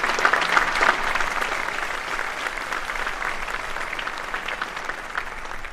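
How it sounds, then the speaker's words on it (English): Graduation audience at a university final exercises ceremony gives a sustained round of applause, a broad crowd of clapping that starts strong and then settles into an even, continuous patter. "So another round of applause for you."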